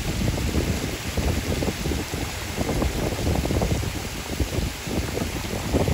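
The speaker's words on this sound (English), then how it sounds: "that wind has shifted a little bit, and now they're more sideways because that wind's coming a little bit more from south" Steady, loud wind gusts outdoors during a Texas rain storm, with broadband rushing and buffeting on the microphone that continues unbroken throughout and carries no speech.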